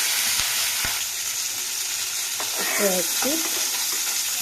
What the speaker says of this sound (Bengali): এবার এটাকে ভাজতে দিয়ে দেব মাছটা এতটাই বড় যে কড়াতেই ধরছে না